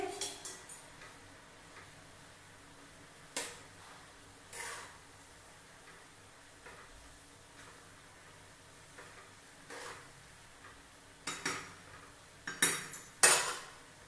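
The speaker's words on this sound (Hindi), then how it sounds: "एक चम्मच मेथी सीड इसमें डाली हूँ, थोड़ी सी हिला देंगे।" Spoon stirring fenugreek seeds in a cooking pot, giving scattered light scrapes and clinks against the metal, with a cluster of louder knocks near the end over a quiet background.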